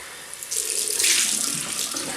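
Warm tap water running into a bathroom sink while rinsing off shaving lather, a steady close splashing stream for about two seconds that starts after a brief quiet moment.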